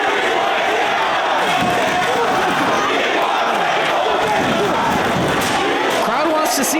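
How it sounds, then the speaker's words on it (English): A wrestling arena crowd chants for tables in a dense, continuous roar of many voices. Scattered thuds and slams come through, and a commentator talks over the din. "Crowd wants to see tables."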